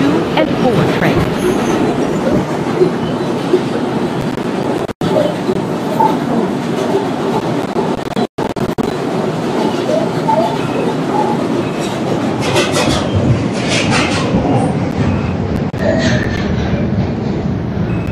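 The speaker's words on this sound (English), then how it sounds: "An Eastchester bound 5 local train." An R142 subway train on New York's 5 local line in the Bronx rumbles loudly and continuously along the tracks, with rhythmic clattering and occasional high wheel squeals.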